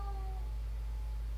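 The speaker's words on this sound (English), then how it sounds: "If you can hear that, that's my cat, Joey." A pet cat gives a short, thin meow near the start, faint beneath a steady low room hum.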